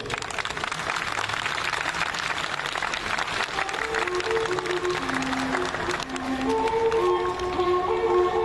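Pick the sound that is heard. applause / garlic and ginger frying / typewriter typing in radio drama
applause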